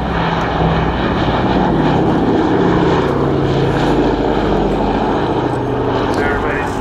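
A Boeing B-17 bomber with four piston engines drones loudly overhead at the RAF Cosford airshow, its propellers throbbing continuously while a commentator talks over the public address.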